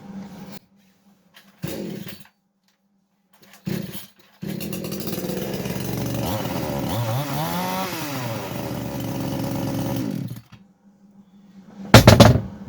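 A new Tekhmann CSG-2045 petrol chainsaw is pull-started: a few short sputtering tugs, then the engine catches and runs loudly and steadily for about six seconds, cuts out, and gives one more brief roaring burst near the end.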